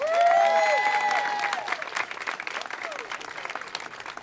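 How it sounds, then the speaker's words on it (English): A crowd applauds at a City Hall ceremony honoring a young man with the key to the city, with sustained clapping and a high voiced cheer or whoop over the start, thinning into scattered claps. "Everybody give this young man a round of applause"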